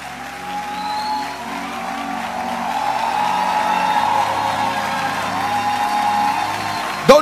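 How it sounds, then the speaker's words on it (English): A congregation at a preacher's gathering claps on request, a sustained wash of applause that swells gradually and holds steady, ending with a sharp, louder burst at the close. "Keep clapping. I didn't ask you to stop."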